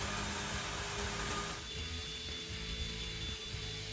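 A Gojo Dock rechargeable mini fan runs at 100% speed, a steady loud airy whoosh over a low motor hum that stays constant, close up and with no voices.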